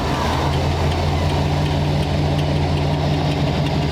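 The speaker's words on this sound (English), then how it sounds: "we're going to crank it without the ignition on" A 1939 Ford hot rod engine cranking over with the ignition off, a steady loud droning churn with a low mechanical hum throughout, close by and without any voices.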